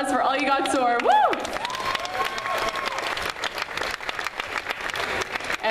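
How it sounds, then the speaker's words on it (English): A concert crowd at Hampton Beach Seashell applauds and cheers, with high whoops and shouts rising early, then a sustained wash of clapping and crowd noise continuing to the end. "So let's give a huge round of applause for All You Got Tour."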